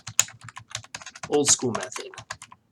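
Rapid keyboard typing clatters close by in quick irregular keystrokes, with a slightly louder burst of keys in the middle.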